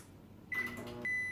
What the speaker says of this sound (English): I put it in the microwave and I just heat it for about 15 seconds.